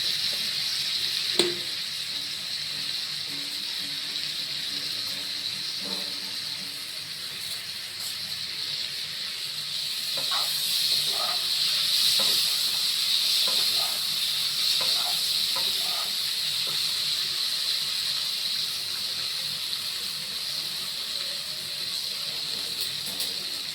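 Steady sizzle of ginger and cumin paste frying in hot oil in a home kitchen, a continuous close hiss with occasional small pops and crackles.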